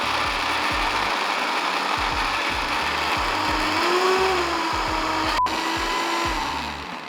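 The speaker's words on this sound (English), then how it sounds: "Okay, so once everything's in the blender, mix it up." A kitchen blender whirs continuously as it purées green chilli, coriander, garlic, lime juice and salt, a loud steady motor drone with rhythmic chopping pulses and slight pitch shifts, no talking.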